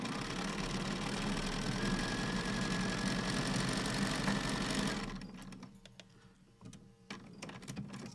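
A Bernina sewing machine stitching small quilt pieces together, running at a steady, dense mechanical whir for about five seconds before stopping, followed by faint clicks and handling sounds.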